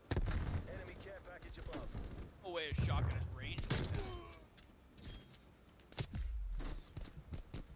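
Rapid shotgun blasts and other gunfire crack in quick bursts during a hardcore multiplayer video game match, loud and close, mixed with in-game voices and player chatter throughout.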